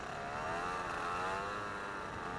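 A hang glider's small motor idles in a steady, loud drone with wavering harmonic tones, continuous throughout with no talk.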